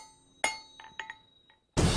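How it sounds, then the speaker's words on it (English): Blacksmith hammer striking iron heated to about 1900 degrees, a series of sharp ringing metallic clinks spaced irregularly, close and clear with lingering tones, ending in a louder broad burst. "I can take the hammer and drive it into whatever shape I need"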